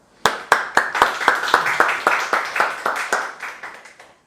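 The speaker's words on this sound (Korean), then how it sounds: "큰 박수로 환영하시겠습니다." A church congregation at Sunday worship claps to welcome a missionary to the front, a run of sharp, evenly spaced claps that soon blur into sustained applause.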